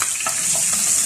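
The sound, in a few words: garlic and ginger sizzling in coconut oil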